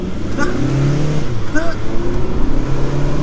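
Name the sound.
Audi A3 2.0 TDI diesel car accelerating hard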